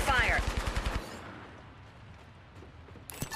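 Automatic weapon fire in the battle royale shooter Apex Legends, a fast burst of loud rapid shots for about a second, then a low rumbling lull and a final sharp shot near the end.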